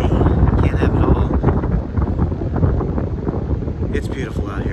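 Wind buffeting a microphone outdoors on a sunny, mild day, loud rumbling gusts that stay constant throughout, with a brief higher rustle near the end.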